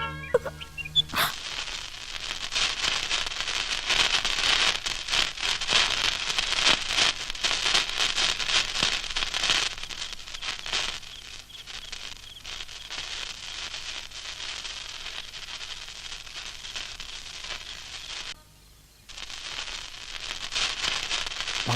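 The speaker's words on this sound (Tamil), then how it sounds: "பார்த்து பட்டாசு வெடிங்கம்மா, மேலே பட்டுற போகுது." Firecrackers crackle and pop in dense bursts for a long stretch, like a steady hiss of small explosions, with a brief lull near the end.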